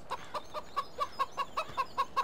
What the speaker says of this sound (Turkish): Horoz.